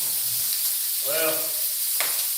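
Bacon frying in a pan, a steady broadband sizzle with crackling pops rising in the middle and a sharp spit near the end.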